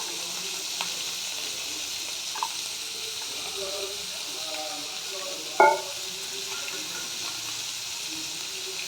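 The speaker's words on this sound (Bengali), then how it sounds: "দেখো পেঁয়াজগুলো আমি ছেড়ে দিলাম।" Onions sizzling and frying in hot oil in a pan while cooking mixed vegetables, a steady soft crackle with a few brief clinks and stirring sounds, heard at close range without talk.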